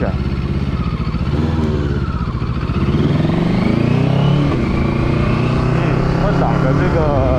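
A JEDI K750 motorcycle engine revs loud and close, rising in pitch as the bike pulls away in first gear and accelerates, with wind and road noise under someone talking over it.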